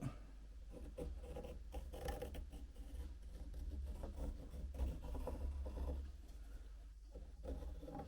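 Pencil drawing a line on a wooden coffee scoop blank, a faint continuous scratchy scraping with small irregular strokes, quiet and close, no talking.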